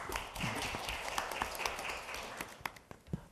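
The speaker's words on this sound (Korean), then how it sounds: "큰 박수로 맞아주십시오" Audience applause at a National Assembly panel debate welcoming a government official, a fairly quiet, scattered clapping with a few distinct sharp claps toward the end, no talk over it.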